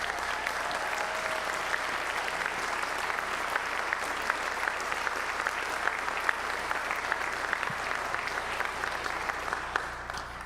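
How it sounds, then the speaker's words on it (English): Sustained audience applause at a school symphonic band and wind ensemble concert, steady dense clapping from a large crowd lasting the whole stretch without voices. "if we could give them a round of applause"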